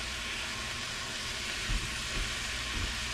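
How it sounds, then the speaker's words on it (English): Chopped onions hit an oiled pan for Philly cheesesteaks, giving a steady, close frying sizzle with a few soft low bumps as they are moved around. "I'm going to add my onions in here."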